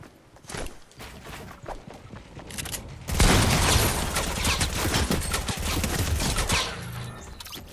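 Rocket launcher fire in Fortnite Battle Royale: a burst of sharp shots and footsteps, then a loud sustained barrage of blasts and explosions lasting several seconds.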